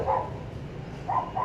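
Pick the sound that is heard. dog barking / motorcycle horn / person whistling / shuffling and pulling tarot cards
dog barking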